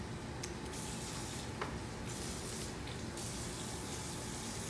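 Water runs from a tap into a container in a jail setting, a steady broadband hiss and splash that holds at an even level throughout, with a few brief sharper splashes and no talk.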